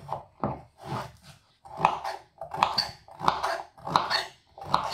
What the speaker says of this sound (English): And dice the carrot.